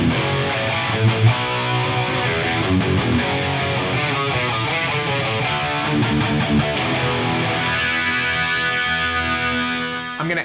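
Heavily distorted electric guitar tuned to dual D, run through an Axe-Fx III FAS Stealth Blue preset with delay and reverb switched off, playing dense sustained riffs and chords at steady loudness that taper off near the end, with no talk.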